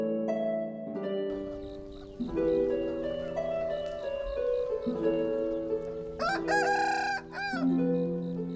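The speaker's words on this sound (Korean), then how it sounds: "닭이 회를 치는 풍경이며 순박한 우리네 시골 아침 그대로입니다" Roosters crow repeatedly at dawn in a remote Lao mountain village, several long cock-a-doodle-doo calls overlapping with clucking fowl, loud and close, no talk.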